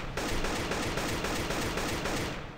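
Sustained automatic AK rifle fire in modded Factorio rattles in a dense, rapid, even stream of shots, loud and continuous from start to finish.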